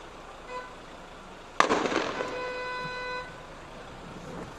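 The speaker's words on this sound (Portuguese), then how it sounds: "Os caras dando tiro de fuzil." A single loud sharp rifle shot fired during an armed bank robbery in Blumenau, echoing with a ringing tail over steady street background noise.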